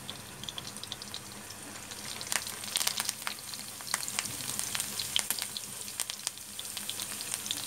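Garlic and curry leaves frying in hot oil, a steady close sizzle with scattered crackles and pops throughout, no voices over it.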